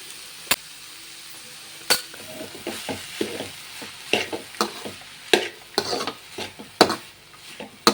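Grated coconut being stirred into a sprouted horse gram curry in a pan: a spoon scrapes and clinks against the metal repeatedly in an irregular rhythm over a faint sizzle, close up and with no voices.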